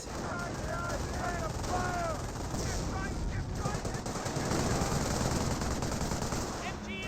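Rapid machine-gun bursts rattle almost continuously in a WWII strategy video game, mixed with scattered rifle shots and battlefield noise, while a voice talks over the action.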